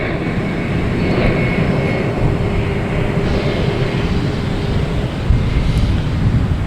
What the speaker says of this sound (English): We have United Airlines coming in from San Francisco.